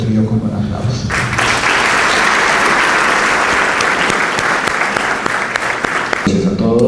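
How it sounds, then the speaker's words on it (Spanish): A hall audience at an interreligious dialogue colloquium bursts into sustained applause to welcome a bishop, loud and even for about five seconds before stopping abruptly, with voices faintly around the edges. "quiero invitar a todos a recibir a Monseñor Javier del Río con un aplauso."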